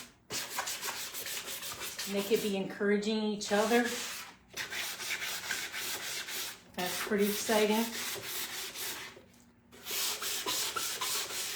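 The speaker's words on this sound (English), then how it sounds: "they could be working on sanding" Steady scratchy rasping of hand sanding on an old wooden chair, continuous and close, with a person talking over it partway through.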